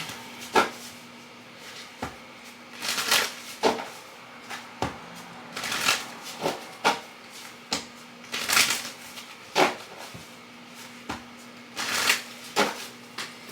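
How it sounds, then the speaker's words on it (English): Tarot cards shuffled repeatedly in quick riffling bursts, close and crisp, with short pauses between flurries and no talking. "Let me do a quick shuffle."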